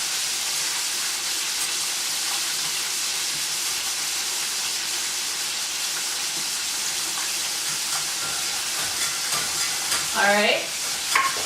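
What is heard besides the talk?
whisking butter into flour in a pan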